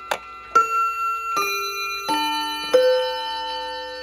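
A Bulova ATO-MAT bracket clock strikes its chime rods in five separate, bell-like notes that step through a short melody. Each note rings out close and clear and sustains into the next.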